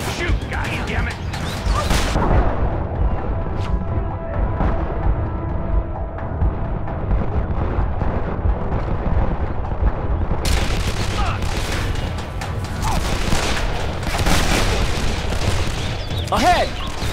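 Gunfire in Call of Juarez: The Cartel crackles in repeated bursts of loud shots over roughly seventeen seconds, with a brief quieter stretch in the middle, while voices shout over the firing.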